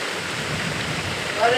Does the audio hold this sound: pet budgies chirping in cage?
no